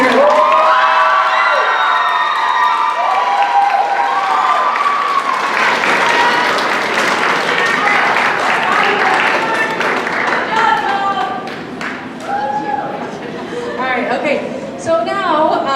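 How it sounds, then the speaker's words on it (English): Crowd at a high school spring choir concert applauding and cheering for the student leadership team; shouts and whoops ride over steady clapping, and the sound thins toward the end as chatter and scattered cheers remain. "let's give a big round of applause to our leadership team for next year."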